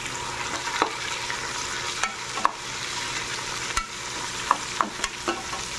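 Tomatoes sautéing in a pan with browned garlic and onion give a steady close sizzle, broken by a few sharp stirring scrapes and clicks of the spatula.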